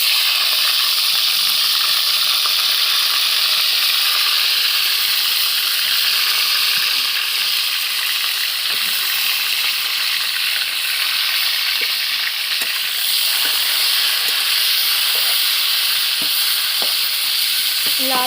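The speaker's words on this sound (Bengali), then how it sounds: "আমি ফুলকপিগুলো ভেজে নেব" Cauliflower pieces fry loudly in refined oil in a wok, giving a dense, continuous close-up sizzle and hiss with a few faint crackles and no pauses.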